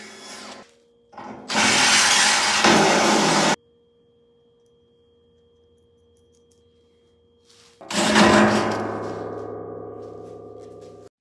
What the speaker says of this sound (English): I will drill some bigger holes in here and weld those on as well.